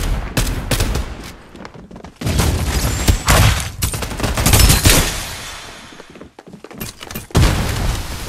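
Rapid gunfire bursts from the battle-royale video game Farlight 84, loud and close, with dense automatic fire, booming impacts and brief pauses between volleys over about eight seconds, no talking.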